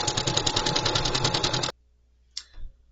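A sewing machine stitches rapidly through a coffee sleeve for under two seconds, then stops; a faint click follows in the quiet.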